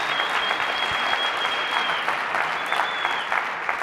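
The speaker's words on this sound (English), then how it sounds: "let's have another huge round of applause for all the pitches that we heard tonight" An audience at a startup pitch competition gives a sustained round of applause after the final pitches. The dense, loud clapping is steady throughout, with a faint whistle riding over it.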